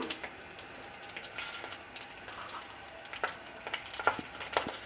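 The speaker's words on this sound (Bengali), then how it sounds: "আর দিয়ে দেব আমি দুটো শুকনো লঙ্কা আর ফোড়নে দেব আমি" A torn bay leaf and two dried red chillies crackle softly in hot oil in a pan, a quiet steady sizzle broken by a few sharp pops and light stirring clicks.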